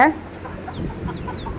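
Chickens cluck softly close by as they compete over sprouted millet and sorghum feed scattered on the ground, with a brief sharper call at the start and scattered low pecking noises after it.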